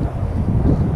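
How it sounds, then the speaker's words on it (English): Heavy wind gusting beside the icy West Walker River, a loud low rumble buffeting the microphone, brief and without talk. "the heavy wind gusting"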